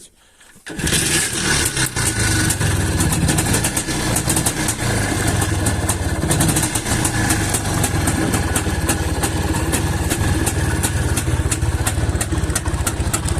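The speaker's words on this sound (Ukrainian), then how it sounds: "Отак должен заводитися іж планета 5." An IZh Planeta 5 motorcycle engine catches and then runs loud and close, a steady rough idle that continues unbroken after the start, with no talk.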